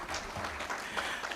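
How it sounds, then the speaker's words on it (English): Brief, fairly faint round of audience clapping at a digital transformation summit in Diani, a soft continuous patter with no speech over it. "Give him a good round of applause."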